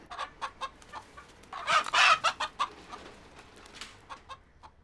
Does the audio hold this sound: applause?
no